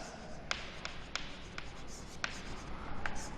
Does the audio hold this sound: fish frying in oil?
no